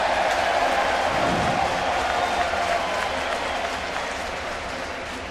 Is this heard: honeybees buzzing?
no